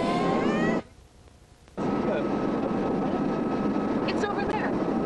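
Helicopter cabin noise recorded from inside the aircraft, a steady loud rotor and engine drone that drops out briefly for about a second, then returns, with voices talking over it.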